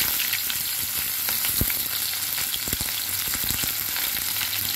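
Onions, sugar and black cumin fry in hot oil in a pan, a dense continuous sizzle close by, dotted with small crackles and pops, with no voices.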